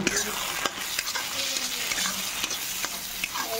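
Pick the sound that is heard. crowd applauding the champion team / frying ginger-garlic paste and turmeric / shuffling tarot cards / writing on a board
frying ginger-garlic paste and turmeric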